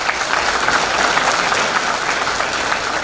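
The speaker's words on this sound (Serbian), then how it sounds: "jedan veliki aplauz za njih" An audience at a charity concert applauds a folk dance group, a loud, sustained wash of many hands clapping evenly for the whole stretch with no break.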